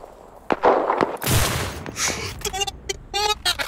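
Gunfire in the Cuisine Royale shooter game landing a headshot: a few sharp, loud shots and bursts in quick succession, mixed with excited talking.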